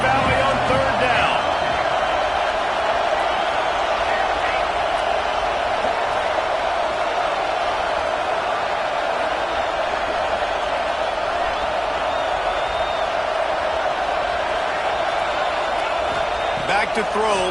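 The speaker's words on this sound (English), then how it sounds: "Here comes the noise from this big crowd in Happy Valley on 3rd down" Big crowd roaring at Happy Valley stadium in the CFB26 college football video game on a third down, a steady dense wall of noise that holds loud throughout, with game commentary running over it.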